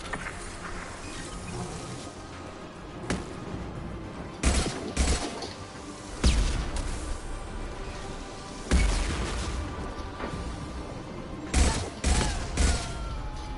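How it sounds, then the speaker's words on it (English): Gunfire in the video game Mass Effect 2: several sharp, loud shots and short bursts ring out at intervals over a steady background of game ambience and mechanical noise. "Firing a high-impact shot."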